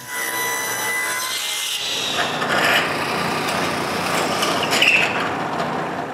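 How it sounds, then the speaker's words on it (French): Small pieces of maple being cut and drilled in a workshop, a loud steady rasping power-tool drone biting into wood, with a harsher grinding stretch partway through and no pauses. "Je coupe donc deux petits morceaux d'érable puis je perce un trou au centre des deux"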